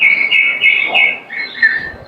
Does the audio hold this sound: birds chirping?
yes